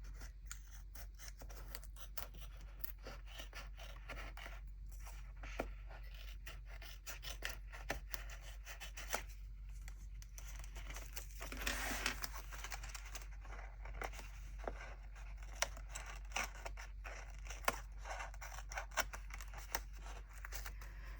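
Scissors snip through sticker scraps in a quiet crafting setup, a long run of small crisp cuts and rustles, close and faint, with no talking.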